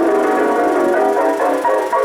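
Piano notes played stiffly and unevenly, sounding heavy and clumsy, with sustained tones blurring together, fairly loud and close.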